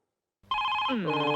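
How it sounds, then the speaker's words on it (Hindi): A telephone rings in an office scene from a Hindi-dubbed South Indian action film. After a brief silence, a loud, steady electronic ringtone starts and keeps sounding with a shift in pitch partway through, with no voices over it. "आपके लिए फोन।"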